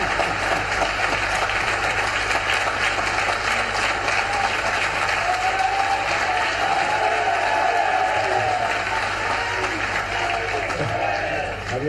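Sustained applause from a large audience at a conference hall in Bhopal, dense steady clapping for the whole stretch with faint murmuring voices beneath.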